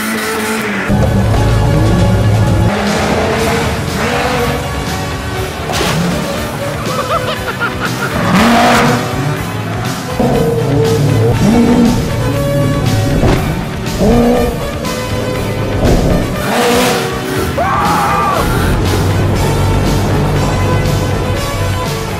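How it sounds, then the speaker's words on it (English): A Ford Bronco does a burnout: loud, close tire squeal and skidding over a revving engine that surges and dips repeatedly for about twenty seconds, with occasional voices mixed in. "Hey, burnout!"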